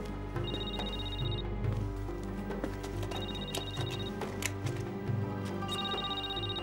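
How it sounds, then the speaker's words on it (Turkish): A telephone rings in repeated bursts in a Turkish TV drama scene, steady electronic trills recurring over a low background of music and room sound. "Hah, arıyor işte."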